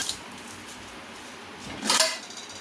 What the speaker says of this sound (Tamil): பேன் வச்சு ஆயில் போட்டுக்கலாம்.